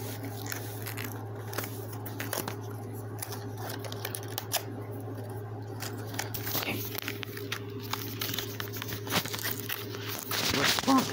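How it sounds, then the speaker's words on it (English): Packing tape being peeled off a cardboard box, a run of crinkly tearing and crackling rips over a steady background hum, growing louder toward the end. "So, let's take the tape off."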